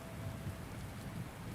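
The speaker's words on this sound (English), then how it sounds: "Ooh, it's raining." Rain pours down outdoors in Star Wars: The Old Republic, a continuous close hiss with low rumbling swells like distant thunder, no voices over it.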